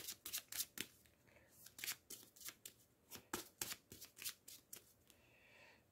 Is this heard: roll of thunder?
no